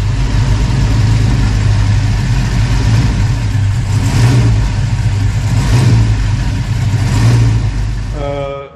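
A Gen 4 LS swap engine with a cam idles loud and close, its rough lumpy idle sagging as the AC compressor kicks on, with people talking over it and the engine cutting off at the end.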